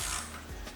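A wrench working a tight bolt on a motorcycle's rear crash bar, giving a short, close mechanical ratcheting clatter over steady background noise, under one second, with no talking.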